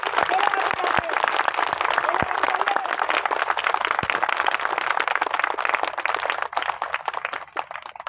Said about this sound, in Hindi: मैं चाहता हूं आपकी तरफ से एक जोरदार ताली होनी चाहिए